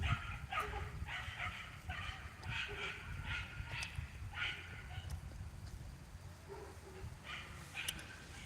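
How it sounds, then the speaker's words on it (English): Dogs barking outdoors at a lagoon, a scattered series of faint, distant yips and barks recurring irregularly over a steady low background noise. "I don't know why dogs don't like each other."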